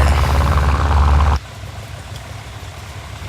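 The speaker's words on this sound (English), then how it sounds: "Let's cut our engine." A De Havilland Rapide biplane engine runs loud and rumbling at idle close by, then cuts off abruptly partway through, leaving only a faint low residual hum and quiet background.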